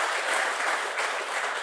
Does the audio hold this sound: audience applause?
yes